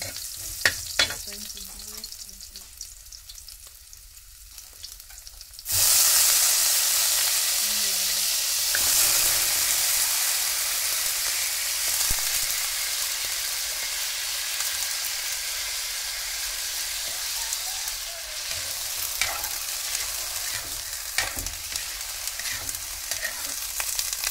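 Ginger and garlic frying in a pan, a steady loud broadband sizzle that starts abruptly a few seconds in and keeps going, with scattered light scraping and clicks; quiet room sound before it.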